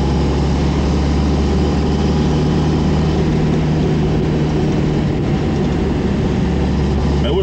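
Renault Caravelle engine labouring uphill in third gear after nearly stalling behind a cyclist, a steady low rumbling drone with constant road and wind noise, no talk.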